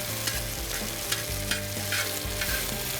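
Onions and peppers sizzle in olive oil on a disc grill, a constant bright crackling fry with scraping and stirring clatter as the vegetables are moved around, close up and without voices.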